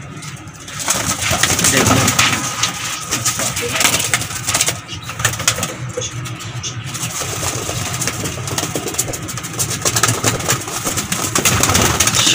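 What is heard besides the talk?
pigeons cooing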